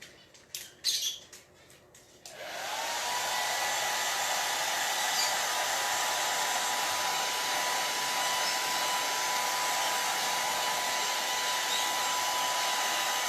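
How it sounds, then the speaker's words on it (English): A hair dryer switches on after a few soft handling clatters and blows steadily at close range, a loud continuous whoosh with a faint whine, drying acrylic paint on a potted plant container. "I'm definitely going to blow dry this"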